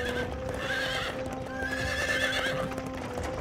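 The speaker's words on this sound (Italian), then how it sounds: "Speriamo che non spaventi il cavallo." Cartoon horse neighing twice in a firehouse setting, with steady clip-clop hoofbeats underneath; the whinnies are loud and close, separated by a short pause, against a busy animated soundtrack.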